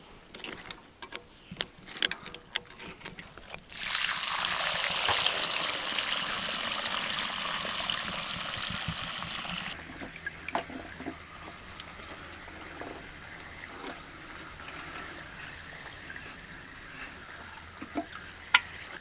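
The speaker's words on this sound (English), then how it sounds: "So this water actually has a nice film on it. It's been here a while. I'm just going to actually drain this." Standing water draining through a faulty Rojo valve, with a steady rushing gush that begins after a few seconds, then drops to a weaker trickle and splash with scattered clicks.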